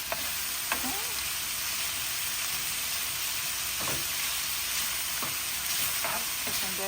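Chopped onion and small pieces of meat sizzle steadily in a pan for stuffed bell peppers, with intermittent stirring clinks and scrapes close by over the continuous frying hiss.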